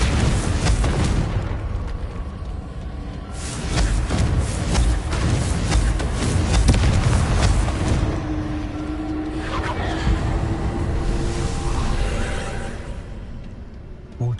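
Confringo blasting spells going off in Hogwarts Legacy, a loud continuous barrage of booming explosions and crackling debris with rumbling low end, swelling and easing over about fourteen seconds.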